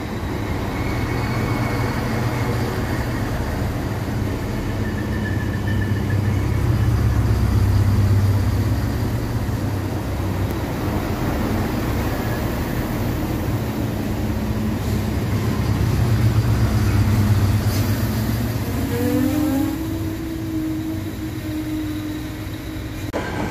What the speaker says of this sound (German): Doppeleinheit Baureihe 612 von DB Regio Bayern.